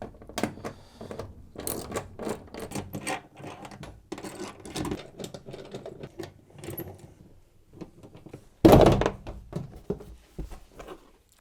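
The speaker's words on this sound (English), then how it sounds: "remove the back panel of the appliance by undoing the 6 bolts using your 7mm socket" Six bolts being undone with a 7mm socket on the back panel of a Zanussi washer dryer, giving a run of close metallic ratcheting clicks and small clunks, ending in one louder clatter.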